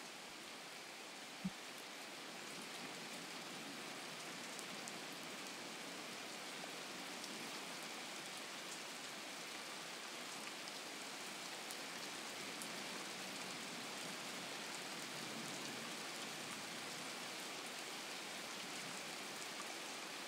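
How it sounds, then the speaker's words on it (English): Heavy rain pours steadily in Pittsburgh, Pennsylvania, at an outdoor football game, a dense, even hiss of drops on surfaces that holds constant throughout with no voices over it. "Rain still coming down strong here in Pittsburgh, Pennsylvania."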